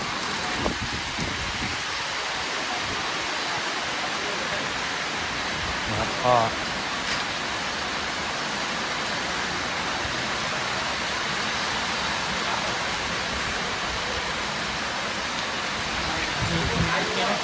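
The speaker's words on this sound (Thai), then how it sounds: "โอ้ฝนฝนสาดครับ" Heavy rain pours steadily throughout, a dense hiss of splashing water, with a brief spoken voice partway through.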